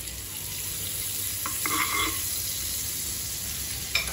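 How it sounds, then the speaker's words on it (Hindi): Butter sizzles in a hot frying pan, a steady close hiss running the whole time with a few faint clinks and small crackles on top, no talking. "आपण आता पॅन गरम करून घेतलाय, त्याच्यात मी थोडंसं बटर टाकते"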